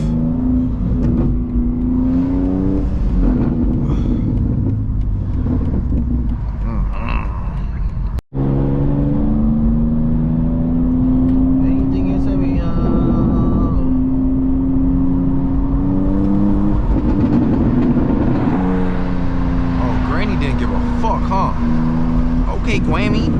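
Straight-piped exhaust on a Stage 2 BMW G87 M2 with downpipes drones and revs loudly from inside the car on an evening drive, rising and falling in pitch, while people keep talking over it.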